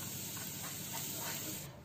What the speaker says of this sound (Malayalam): കുറച്ച് കറിവേപ്പില ഇട്ട് പൊട്ടിക്കണം നമുക്ക്